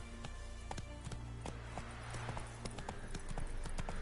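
Roach, the horse in The Witcher 3, galloping with steady rhythmic hoofbeats amid game music and ambient sound, moderately loud throughout.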